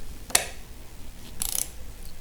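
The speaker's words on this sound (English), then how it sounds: "And use our 10mm box to tighten." A 10mm box wrench turning and snugging a nut on the lever mount of a Yamaha FJR1300 motorcycle, giving two short metallic clicks about a second apart, close and fairly quiet.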